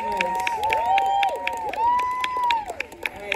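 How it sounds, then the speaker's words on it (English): An audience at a climate justice panel discussion claps and cheers for the panelists with a crowd roar, scattered whoops and rising shouts, while amplified voices talk over it. "give another round of applause for our panelists"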